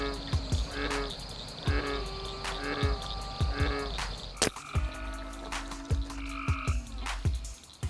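Frogs croaking in Kentucky water at night, a run of deep, repeated croaks in a loose rhythm close by, with crickets and insects trilling steadily behind and a sharp knock midway.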